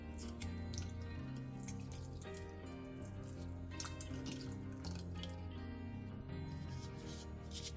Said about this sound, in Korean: 10분 뒤 충분히 식은 계란은 껍질을 까서 깨끗한 물에 헹궈놔주세요.